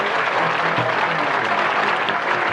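A loud, continuous wash of applause from an audience, evenly sustained with no break.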